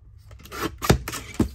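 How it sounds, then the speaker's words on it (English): A paper cutter trims excess paper from a journal card in a few short, close slicing and crunching strokes, ending with a sharp cut. "I'm going to use my cutter to trim off the excess."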